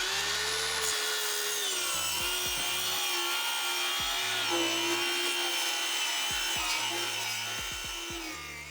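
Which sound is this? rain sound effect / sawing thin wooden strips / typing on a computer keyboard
sawing thin wooden strips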